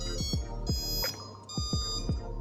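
Drone motor beeping on a PX4 setup after switching the ESC protocol to DShot300: a series of short, close, tonal beeps in quick succession, with a steady electronic hum beneath and no talking.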